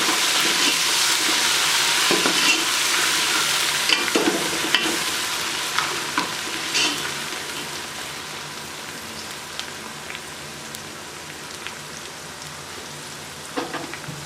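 Green chillies fry in hot oil in a pan for masoor dal tarka, a loud, dense sizzle with scraping stirs early on that slowly settles to a steadier hiss.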